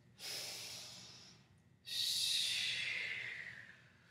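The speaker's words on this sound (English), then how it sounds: "Huge inhale, bigger exhale." A deep inhale followed by a longer, fuller exhale during a yoga session, two close, clear breaths with a short pause between them and the out-breath louder and more drawn out.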